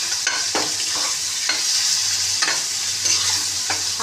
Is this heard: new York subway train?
no